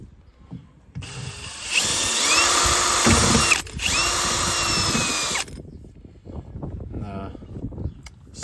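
Power drill with a roughly 6 mm bit boring out a door speaker mount on a VW Passat B6, two loud sustained whirring bursts with a brief break between, then quieter handling noise.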